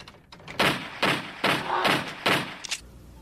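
A toy gun goes off in loud, sharp bangs like a real firearm, fired five times in quick, evenly spaced succession at close range.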